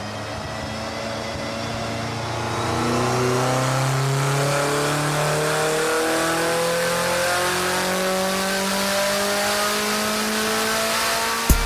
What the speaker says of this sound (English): Gareth's car turned the Speedworks dyno hubs to the tune of 470 horsepower